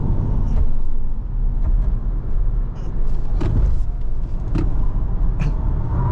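An MG4 Electric X Power, a twin-motor electric car with 435 horsepower, brakes hard during a test drive, heard as a loud, steady cabin rumble with faint thumps and road noise throughout.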